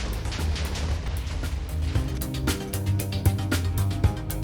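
Several TNT blocks detonating in Minecraft, producing a continuous rumble punctuated by repeated sharp booms and bursts that grow denser and louder toward the end.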